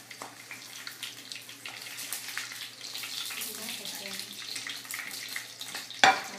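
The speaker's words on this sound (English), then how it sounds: "So you can hear it bubbling." Chopped onions bubble and fry in hot oil, giving a soft, steady crackling hiss throughout, ending with a sharp clunk of a pan or utensil.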